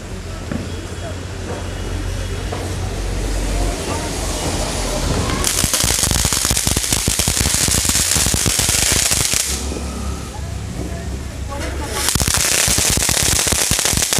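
Firecrackers set off in a test burst into dense, loud crackling volleys: one long rapid run of pops, a brief lull, then another close crackling barrage, with voices talking underneath.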